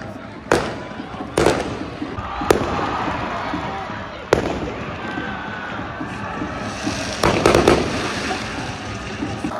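Fireworks bang repeatedly, sharp loud cracks at irregular intervals over a constant crowd roar in a football stadium in northern Norway.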